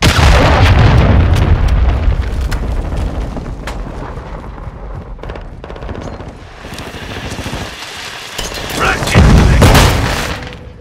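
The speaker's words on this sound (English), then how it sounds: "Hostile cruise missile incoming." A cruise missile strike during an airport hardpoint match in the video game Call of Duty Modern Warfare 2. Heavy booms roll under constant rattling machine-gun fire, building to a big, loud blast near the end, with game voices speaking.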